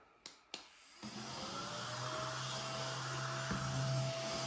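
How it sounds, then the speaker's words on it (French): A household vacuum cleaner starts after a couple of clicks and runs steadily, a loud continuous whine with a low hum, heard alone without talk. "On va passer un petit coup d'aspirateur."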